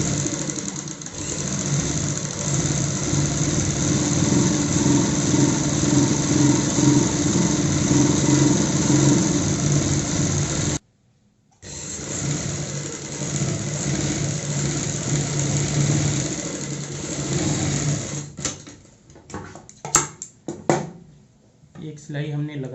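A sewing machine stitches a frill on a little girl's frock, a steady close whirring hum with a rapid needle chatter. It pauses briefly midway, then runs again and ends with uneven stop-start bursts.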